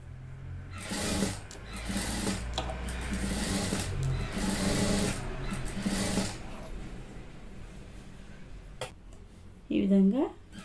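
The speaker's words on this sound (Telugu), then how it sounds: "చూసుకుంటూ కుట్టాలండి జాగ్రత్తగా." A sewing machine stitches piping onto a neckline, running in several steady mechanical bursts of rapid needle chatter, pausing briefly between runs, with a voice heard near the end.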